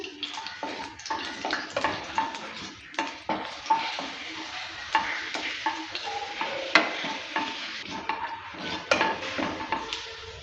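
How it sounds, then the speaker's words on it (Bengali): Dried red chillies and nigella seeds fry in oil while a spoon stirs and scrapes the pan in irregular, clattering bursts over a soft sizzle, with no voices. "শুকনো লঙ্কাটা দেওয়ার পর ভালো করে আবারও নেড়ে চেড়ে নিচ্ছি"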